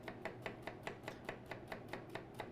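A knife mincing shallots on a cutting board, a steady run of about a dozen evenly spaced, crisp chops, close and fairly loud with no talking.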